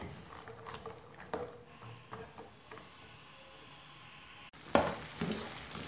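Peanuts being stirred in a pan of drying sugar syrup for honeyed crunchy caramel peanuts, a close scraping and rustling with a few sharper clinks and a louder burst near the end, no talk.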